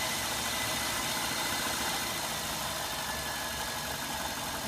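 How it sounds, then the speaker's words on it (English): A cold Ford Escort engine runs at idle after starting, a loud, steady, close mechanical drone with a constant rough rumble throughout. "Right, just going to start it up, see if it will run."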